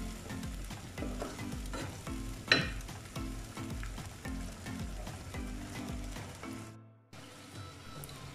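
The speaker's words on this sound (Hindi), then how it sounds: "और इसी के साथ हम शलजम भी डाल देंगे कि ये भी भुन जाए" Beef and turnip fry together in a pot while being stirred, a dense sizzle broken by rhythmic scraping strokes and one sharp clink, close and loud, with a brief near-silent break near the end before the frying resumes.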